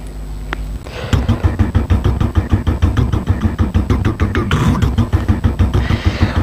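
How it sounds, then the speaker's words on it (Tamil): A motorbike engine is revved in a fast rhythmic pulse as part of a song, loud and close, holding a steady throbbing beat after a short start. "ஓ, பைக் சத்தமா?"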